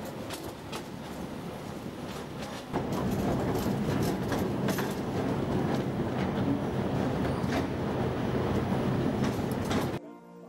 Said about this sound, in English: a train ride on a narrow-gauge military railway between the harbor and Manniku village